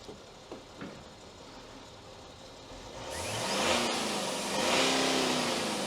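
A BMW X5 engine with a faulty injector, misfiring and smoking, idles steadily in a workshop, then is revved twice in long rising pulls that hold before easing off.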